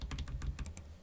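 Computer keyboard arrow keys are tapped in a quick series of light clicks, about eight presses in a second, faint and close with no talk.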